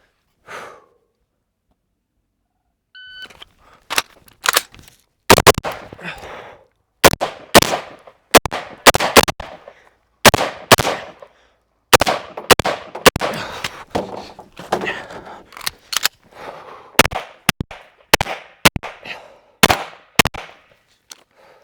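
Rapid pistol shots fired at targets on a 2-gun practice stage, a fast string of sharp, loud cracks in quick pairs and bursts, spread over about eighteen seconds.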